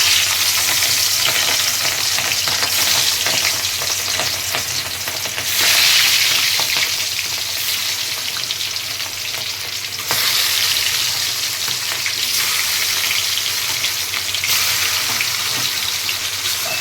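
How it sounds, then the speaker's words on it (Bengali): Fish sizzles and crackles steadily in hot oil for Bengali fish curry with brinjal, a dense close frying hiss with brief surges and faint stirring, no voices. "এবার মাছগুলো ভেজে নেব।"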